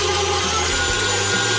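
Electric hand mixer beating two blocks of cream cheese for a no-bake chocolate hazelnut cheesecake, a steady, loud whirring motor drone held close throughout with slight shifts in pitch and no talking.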